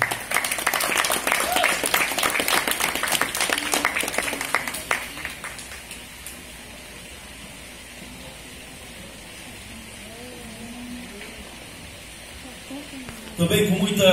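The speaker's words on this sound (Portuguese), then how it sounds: "Uma salva de palmas." An audience at a psychoanalysis and human rights graduation ceremony claps loudly for several seconds before the applause dies away into a quiet hall, with a speaker's voice briefly afterward.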